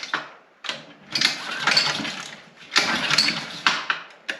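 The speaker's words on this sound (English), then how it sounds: "Why is my engine running away?" A small mini bike engine with its cover off and no throttle return spring revs up on its own in surging bursts, each rise climbing and lingering before briefly dropping, loud and close.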